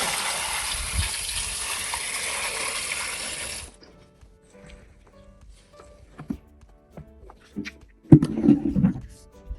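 Liquid fertilizer solution pours steadily into a bucket of green fertilizer in a broad rushing stream for a few seconds, then stops, followed by quiet clinks, knocks and handling noises nearby.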